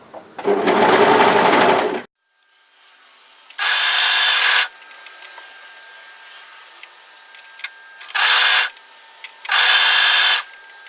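A sewing machine stitches a dress seam in four loud bursts of steady whirring, each lasting a second or two, separated by quiet pauses with faint handling noises.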